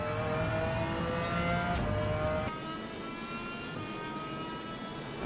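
A McLaren F1 GTR race car in Gran Turismo 7 at Le Mans, engine note climbing through the revs, a shift around the two-second mark, then steady loud acceleration with no talking.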